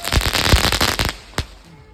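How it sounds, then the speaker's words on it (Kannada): Firecrackers bursting on a terrace on Diwali night: a rapid, crackling string of sharp bangs, then one lone pop and a fading quiet tail. "ಟೆರೆಸ್ ಮೇಲೆ ಕೂಡ ಸ್ವಲ್ಪ ಪಟಾಕಿ ಹೊಡಿಯೋಣ ಅಂತ ಹೋಗಿದ್ವಿ"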